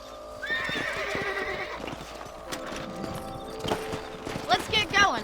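Horse hooves clip-clop along with a neigh in the video game Red Dead Redemption, mixed with ambient game sounds and bursts of other noise under a busy background.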